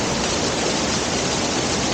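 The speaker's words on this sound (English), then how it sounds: "some little waterfalls just pouring out of the mountain everywhere" Small mountain waterfalls and streams pour steadily in a Colombian jungle, a dense, even rush of water that stays close and constant throughout with no voices.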